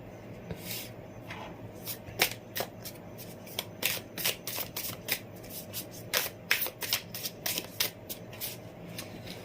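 A tarot deck shuffled by hand during a card reading, giving repeated crisp riffling bursts in an irregular rhythm, close but moderately quiet over a steady low hum, with no speech.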